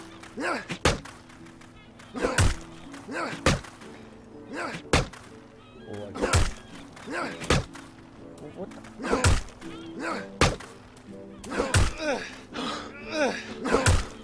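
Kicks and weapon strikes break a block in the medieval combat game Chivalry: Medieval Warfare, a series of sharp thuds and thwacks at irregular intervals, with a voice talking between them.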